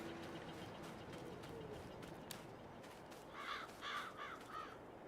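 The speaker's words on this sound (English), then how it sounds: "Those birds actually kind of startled me." Crows cawing in the Farming Simulator 22 video game, a series of four or five harsh caws in quick succession over steady quiet ambient background noise, fairly faint and without talking.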